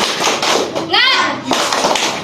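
Elementary school pupils in a classroom perform the tepuk semangat clapping routine, sharp rhythmic claps mixed with excited children's voices and a brief high squeal, close and lively.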